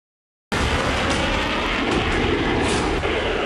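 Military aircraft in the context of a Russia-France standoff give a loud, steady engine roar and rushing noise that starts abruptly after a moment of silence and holds at full strength, with no talk.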